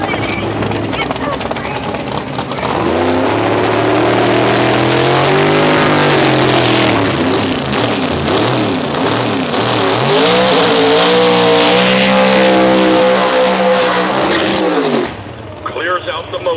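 Drag racing cars at the World Street Nationals, including a Cavalier, rev loudly and launch in a continuous roaring engine blast with rising and falling pitch under an excited announcer, before cutting off near the end.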